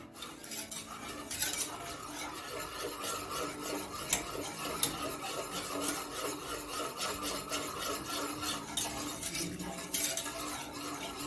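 A spoon stirs white sauce for pasta in a pan with a steady scraping, rubbing rhythm that continues throughout, close and moderately loud, with no speech.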